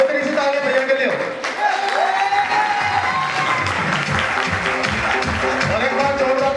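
Audience applause at a motivational business seminar, steady dense clapping filling the room throughout, with voices and music-like tones mixed in underneath.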